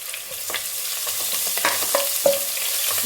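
Pounded ginger garlic paste fries in oil for baby corn fried rice, a steady close sizzle with irregular stirring scrapes and light taps of a spoon against the pan, no one speaking.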